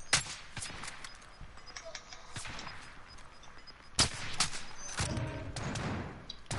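Gunfire in Call of Duty Warzone during a quads match, scattered sharp shots and thuds at irregular intervals, with a few louder bursts, mixed under faint game ambience.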